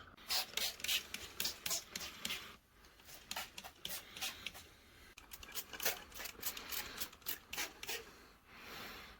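Car interior plastics in an old Corolla are wiped with Meguiar's Natural Shine, giving faint, close rubbing strokes in quick irregular bursts with brief pauses between passes.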